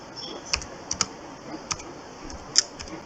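Fast typing on a computer keyboard: a short run of sharp, separate key clicks at an uneven pace, close and clear against a quiet background, with no talking.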